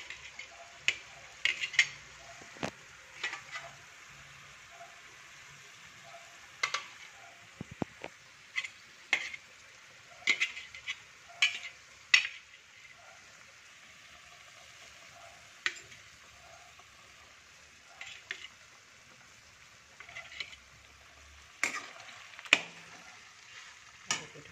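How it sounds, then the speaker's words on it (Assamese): Potato pieces are stirred in a frying pan, giving a quiet continuous sizzle punctuated by irregular sharp scraping clicks of a spoon against the pan, close and without talk. "এতিয়া মই তাত আলুকিটকুৰা মিলাই দিম।"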